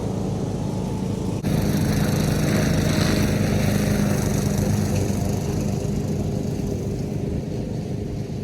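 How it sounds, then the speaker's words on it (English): A lawn mower running nearby in a garden, its loud steady engine drone kicking in after a second or so and holding constant throughout. "it's hard to hear with them mowing"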